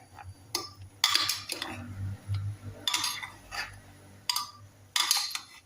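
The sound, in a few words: stirring local chicken curry in a pot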